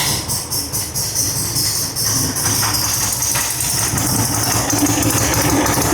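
A 1904cc engine in a 1964 Karmann Ghia race car cranks in a few quick pulses, then catches and runs at a loud, steady idle with a clattering mechanical edge, with no talk.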